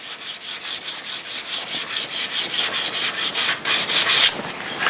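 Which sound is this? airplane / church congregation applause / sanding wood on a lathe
sanding wood on a lathe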